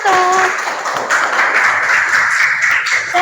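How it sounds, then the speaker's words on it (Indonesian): Classroom applause for group 1 at a teaching performance session, a steady burst of many hands clapping close and loud for about three seconds. "tepuk tangan untuk kelompok 1"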